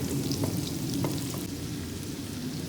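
Onions frying on a high flame until brown, a dense continuous sizzle with faint occasional crackles, close and steady throughout, no speech.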